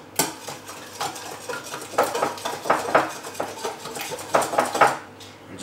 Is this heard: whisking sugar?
yes